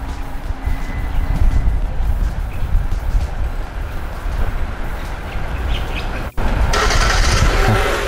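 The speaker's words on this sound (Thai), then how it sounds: "สตาร์ทเครื่องยนต์จากระยะไกลครับ" A Nissan Almera engine, started remotely, turns over and settles into a steady idle after a brief click, with faint bird chirps in the background.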